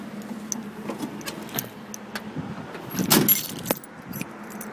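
A bunch of vehicle keys jangles in bursts at close range, loudest in one sharp metallic rattle midway, over a low idling engine hum from a truck setting.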